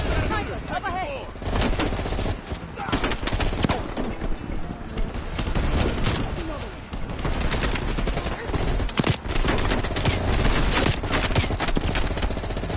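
Heavy, continuous gunfire in Call of Duty Black Ops Cold War, loud bursts layered with machine-gun fire and battle noise throughout, with voices shouting amid the shooting.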